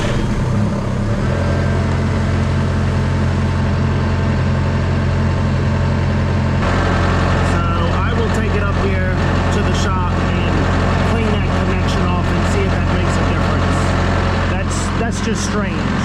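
A John Deere 6115M tractor cranks with a battery charger connected, giving a loud, continuous low engine drone that holds steady for about sixteen seconds, with clattering mechanical noises over the second half.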